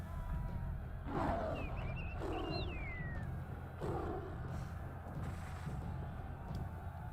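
A few short rising and falling cat meows from the video game Black and White 2, somewhat synthetic, over a steady low rumble of background noise.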